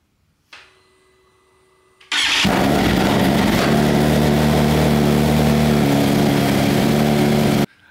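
A BMW S1000RR sport motorcycle on a bench cranks briefly, then fires up loudly and settles into a steady, close, rough idle that holds for several seconds before cutting off abruptly.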